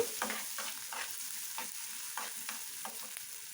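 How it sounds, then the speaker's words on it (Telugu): Onions fry lightly in a pan, a soft even sizzle overlaid with repeated spatula strokes scraping across the pan at a brisk, regular pace, close by with no talk. "ఈ ఆనియన్స్ని మరీ ఎక్కువ ఫ్రై చేయకూడదు అనమాట లైట్గా వేయించుకుంటే సరిపోతుంది"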